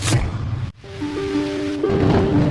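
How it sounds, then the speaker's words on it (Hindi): A cartoon storm delivers heavy rain with a low rumble of thunder, a sudden cutoff, then steady downpour continuing under a soft tonal music bed. "वो खिड़की से बाहर हो रही तेज बारिश को देख रही है।"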